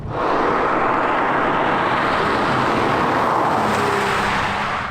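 Porsche 993 Carrera 4S driving on a rough country road, a steady loud engine and road roar that carries throughout with no talk over it.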